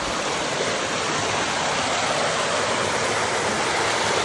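Rushing river water at Ubbalamadugu pours like a waterfall in a steady, loud, continuous roar with no breaks and no voices.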